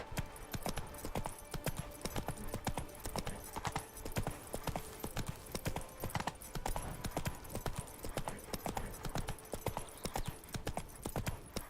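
Galloping hooves of Roach the horse in The Witcher 3: Blood and Wine, a fast, even clip-clop rhythm close and clear throughout, with only faint background sound.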